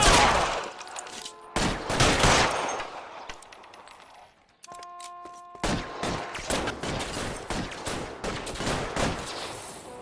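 Gunfire in L.A. Noire: rapid bursts of shots crackle in clustered volleys, then a short lull with a steady tone, before more sustained sharp firing resumes, fairly distant and moderate in level.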